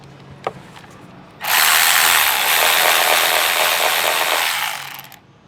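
A 13mm nut on a cold air intake for a Jeep Wagoneer or RAM 1500 Hurricane 3.0L twin-turbo is run down with a powered ratchet. One loud, steady whirring burst lasts about three seconds and follows a quiet, brief click.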